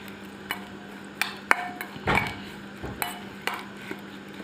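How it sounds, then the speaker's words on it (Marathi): Spoon clinking and scraping against a bowl while onion raita is stirred into curd, a few sharp taps and a short burst of mixing, close and fairly quiet with no talking. "आता हे सगळं आपण मिश्रण मिक्स करून घेऊयात"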